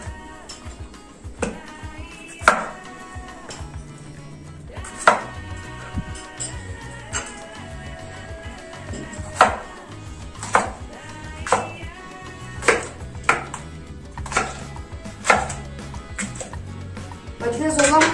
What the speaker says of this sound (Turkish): Biber de doğrayacağım